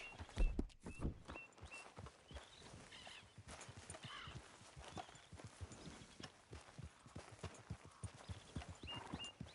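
Rhythmic clip-clopping of horse hooves in Red Dead Redemption 2 plods along steadily, close and clear, with a soft ambient bed and a brief whinny near the start.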